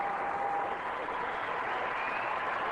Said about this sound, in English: A standing ovation for Scott Hamilton